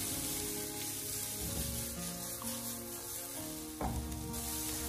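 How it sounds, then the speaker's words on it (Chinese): Onion strips stir-fry in hot oil in a wok over medium-high heat, with a continuous crackling sizzle and occasional scraping stirs. The sound is close, steady and dense throughout. "先把洋葱给它爆炒一下"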